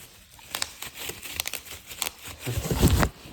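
Close crinkling of a plastic bag, irregular rustles and crackles that grow louder toward the end, with no talking.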